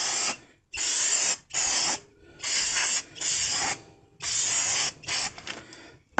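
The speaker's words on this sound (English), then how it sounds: "Now I'm going to grab my brake cleaner again." Can of brake cleaner sprayed onto Toyota Prius brake parts in several loud, close hissing bursts of a second or so each, separated by brief pauses.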